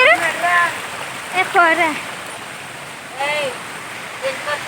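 Steady rushing water spilling out from between rocks at a waterfall in winter, a constant broadband wash running underneath intermittent nearby talking.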